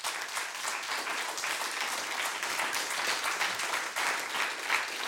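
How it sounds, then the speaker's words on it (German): Studio audience of a television quiz show bursts into dense, even applause, many hands clapping continuously at moderate distance with no voices over it. "Das ist einen Applaus wert."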